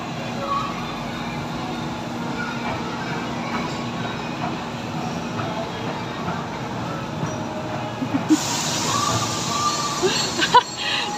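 A small ride-on train in a shopping mall rumbles along steadily with rattling and clacking, and a few sharper squeaks and knocks toward the end, with people chatting faintly.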